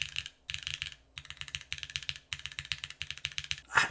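Rapid typing on a mechanical keyboard fitted with GMK keycaps, crisp close clicks in quick bursts separated by short pauses, with a brief louder clack at the very end.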